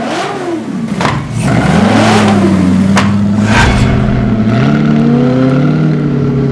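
A 4.7-litre Maserati V8 engine in a motorcycle revs loudly and steadily up close, its pitch climbing and shifting with a throaty, continuous roar.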